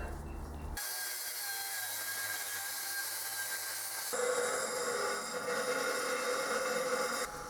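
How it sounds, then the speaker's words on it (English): An angle grinder works a metal workpiece in a machining shop, a steady dense high-pitched whine and grinding hiss running without a break and growing louder and harsher partway through, with no talking. "now it's angle grinder time"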